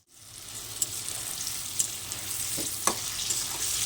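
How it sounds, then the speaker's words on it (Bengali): Home-made KFC-style chicken deep frying in a pan of oil: a continuous bright, crackling sizzle, close and even, dotted with a few sharp pops and spatters, no talk. "আর একটু ভাজা হোক তারপর আমি নামিয়ে নেব"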